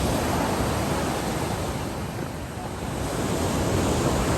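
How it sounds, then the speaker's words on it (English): Waves wash onto a beach in a continuous, steady roar of surf mixed with wind noise, evenly loud throughout. "Our first visit to the beach."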